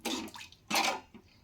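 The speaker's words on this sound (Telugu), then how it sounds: "వాటర్ వేసేసుకుందాం దీంట్లోకి. ఇంత వాటర్ అయితే మనకి పప్పు మంచిగా ఉడికిపోతుంది." Water is poured into a pot of lentils for cooking, heard as two splashy gushes with a short gap and a brief trickle after, close by.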